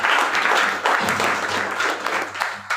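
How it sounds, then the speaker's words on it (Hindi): Applause from a seminar audience for a health product, a dense, steady clapping that fills the room and carries on alone with no voice over it. "एक बार जोरदार तालियां होनी चाहिए इस प्रोडक्ट में"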